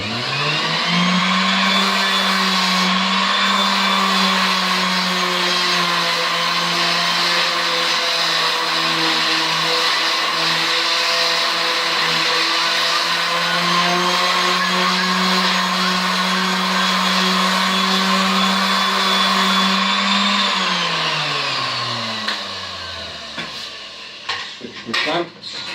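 A power sander works the wood of a coat rack with a loud, steady whining drone that holds for about twenty seconds, then winds down and stops, leaving a few faint knocks.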